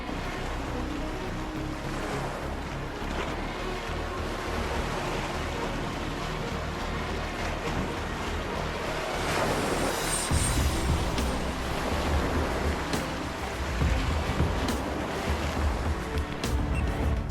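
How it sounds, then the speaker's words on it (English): Hurricane wind roars over heavy surf on a desert tropical island, a constant rushing wash of waves and gusts that swells louder partway through. "It's really a hurricane, and it's coming towards me"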